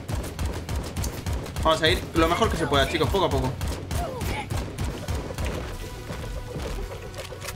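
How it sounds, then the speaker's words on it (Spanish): Enemy gunfire in the video game AK-xolotl, rapid bursts of shots and impacts clustered in the first half, heard under someone talking. "Ya de primera me está pegando tiros por todas partes."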